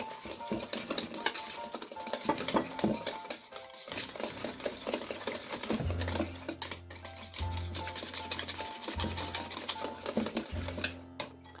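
Christmas fruit cake batter mixed in a bowl, a busy run of clinking, scraping and rubbing strokes against the bowl with a steady rhythm, close and fairly loud, no voices.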